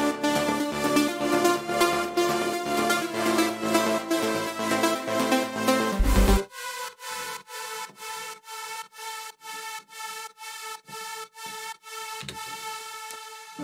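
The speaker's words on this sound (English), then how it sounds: "It's a pad sound which plays a counter melody over everything else." A synth pad plays a sustained counter melody over a dense electronic arrangement, first thick and continuous, then stripped back to rhythmic, gated chord pulses repeating steadily to the end, with no voices.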